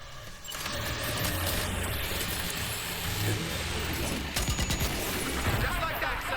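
A rocket box weapon fires in the video game Death Stranding 2, a dense rapid volley of launches and blasts over a rumbling engine-like background, with a person talking over it.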